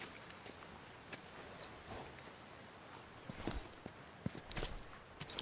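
Horse hooves clip-clopping at a walk in The Last of Us video game, soft irregular steps heard fairly faint over a steady background hiss.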